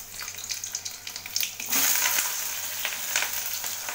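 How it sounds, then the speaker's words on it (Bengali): Spices for a home-cooked evening curry tempering in hot oil: a close, crackling sizzle that starts as scattered pops and then bursts into a louder, continuous fry partway through, with no voices. "রাত্রিকার তরকারিটা ফোড়ন দিলাম"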